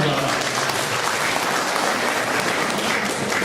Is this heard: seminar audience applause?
yes